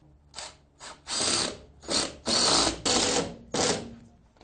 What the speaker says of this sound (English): We're going to be screwing the bracket to the wall.